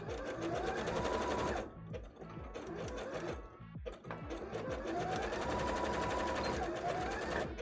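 A sewing machine stitches a zigzag on a bra in two long, fast bursts of rapid mechanical clatter, close and loud, separated by a short pause.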